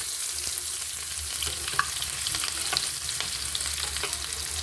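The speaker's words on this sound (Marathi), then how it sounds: "आता छानपैकी असा आवाज आला की आपण टाकूया मिरची आणि कांदा" Green chili and onion frying in hot oil in a pan, a dense continuous sizzle with light crackles and stirring clicks throughout, close and steady with no talking.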